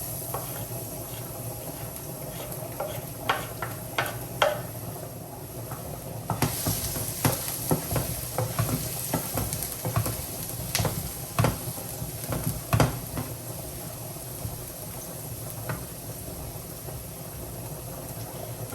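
Garlic crackles and sizzles in a hot stovetop pan for beef and broccoli, a steady frying hiss dotted with sharp pops and light scraping, with no talking.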